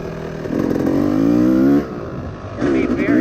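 A Yamaha YZ250 two-stroke dirt bike engine revs up with rising pitch, drops briefly, then revs again, loud and close.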